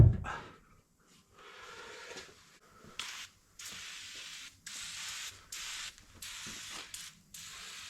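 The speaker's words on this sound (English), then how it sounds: "this is just a rust inhibitor with like a built-in spray grease" Rust inhibitor with built-in spray grease sprayed from an aerosol can onto BMW S14 E30 M3 engine blocks in a machine shop, a series of short hissing bursts in an irregular rhythm, close and loud with no talk.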